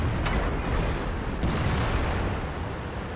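A tank exploding in World of Tanks: a loud, rumbling explosion with booming blasts and crackling debris over a continuous roar of heavy battle fire.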